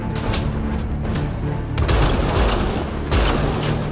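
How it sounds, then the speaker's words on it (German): A grenade in Mass Effect Andromeda goes off amid loud combat: rumbling booms and bursts of gunfire, with two strong blasts in the second half, close and without speech. "Das ist die Granate gewesen von denen"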